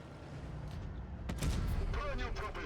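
Tank cannon fire in the mobile game World of Tanks Blitz: a single heavy boom partway through, followed by metallic impact and engine rumble over steady in-game noise.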